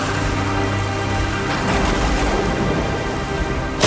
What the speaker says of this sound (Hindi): ये तूफान भी थम जाएगा